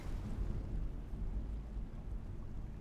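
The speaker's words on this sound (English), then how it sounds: "Can y'all hear that thunder?" Thunder in Animal Crossing New Horizons, a faint, low continuous rumble rolling in the distance like a far-off storm, with no other sounds over it.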